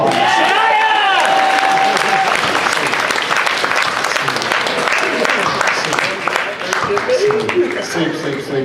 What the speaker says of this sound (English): Give Shania and his backup dancers a round of applause.